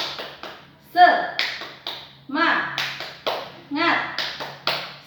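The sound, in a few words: class rhythmic clapping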